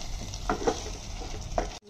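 Yogurt and masala frying in a handi for kachnaar keema, a close, steady sizzle with a few soft stirring scrapes, stopping abruptly at the end.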